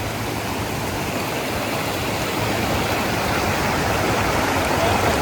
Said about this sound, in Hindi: ये जो पानी की आवाज़ होती है ये वाटरफॉल की